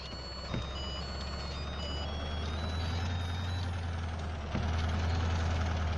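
A bus reversing in the Indian Bus Simulator video game gives a repeated high electronic warning beep over a low, steady idling engine rumble, with a faint hiss of air part way through.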